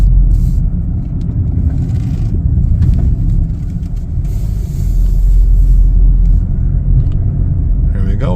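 A 2021 Nissan Sentra SV rolls into a parking space, heard from inside the cabin as a steady, loud low engine and road rumble throughout.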